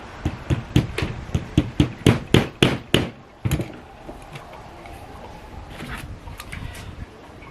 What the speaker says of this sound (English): use a hammer to smash it down into places